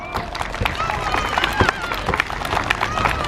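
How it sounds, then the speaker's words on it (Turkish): A crowd claps for kindergarten children at a school welcome-day surprise, a dense, steady patter of hands close by that runs the whole time, mixed with excited children's voices and general hubbub. "Kocaman bir alkış, kocaman."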